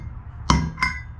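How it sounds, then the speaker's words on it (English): Two sharp hammer taps drive a captured spacer into a Kayo MR150 wheel during an upgrade, each a bright metallic knock with a short ringing tail, spaced about a third of a second apart. "just grab a hammer and tap this in"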